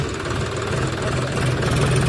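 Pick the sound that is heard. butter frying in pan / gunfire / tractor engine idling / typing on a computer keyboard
tractor engine idling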